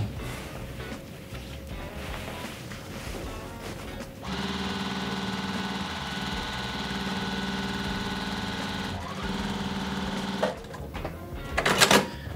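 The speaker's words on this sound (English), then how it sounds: "I'm 1 seam away. So we're going to go ahead and finish up this quilt." A sewing machine stitching the last seam of a quilt hums steadily for about six seconds in a quiet room, starting and stopping abruptly, with brief handling noises before and after.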